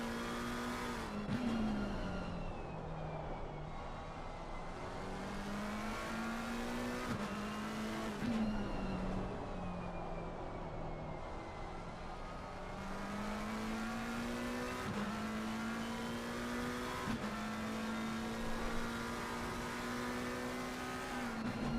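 A GT race car engine from a McLaren versus Porsche video game battle at Zandvoort drones continuously, rising and falling through gear changes with brief shifts and faint tire noise, steady and fairly close throughout.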